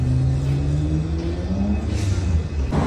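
Nissan Cedric 230 Deluxe wagon with an L28 engine on individual throttle bodies, idling with a steady low rumble and a few slight revs, loud and close, with no talk.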